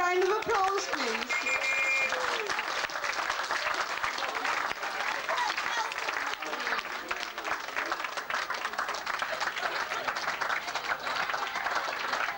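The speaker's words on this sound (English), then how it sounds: "Can you all give them a big round of applause" Steady applause from an audience at a birthday meet, with dense clapping filling the whole stretch and scattered voices and a few whoops rising over it near the start.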